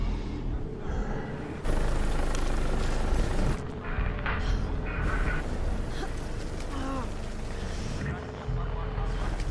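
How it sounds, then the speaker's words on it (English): A news helicopter in the video game The Division drones overhead with a loud, continuous rotor rumble, over game ambience and voices talking. "Is that a news chopper?"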